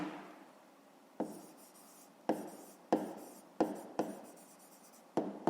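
A pen or pencil scratches out a fifth-grade math exercise on paper, a series of short sharp strokes starting and stopping in an uneven rhythm, faint and close in a quiet room.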